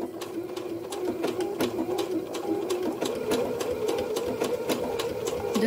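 A sewing machine stitches appliqué on fabric with a steady fast whirring hum and rhythmic needle clicks, close and continuous, briefly slowing near the start.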